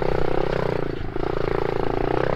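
A mini motorcycle engine revs close by with a buzzy, wavering tone that dips briefly and then climbs again, loud and continuous.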